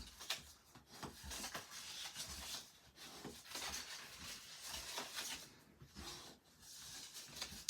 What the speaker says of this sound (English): we're going to burnish, fold and burnish on all these score lines